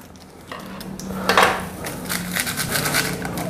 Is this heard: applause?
no